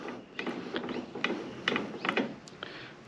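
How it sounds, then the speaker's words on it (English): Threaded extension of a UHF CB radio aerial (Oricom DTX4200X) being unscrewed by hand, giving a series of close, light ratcheting clicks and thread scrapes in an uneven rhythm. "we can screw that aerial extension off quite easily"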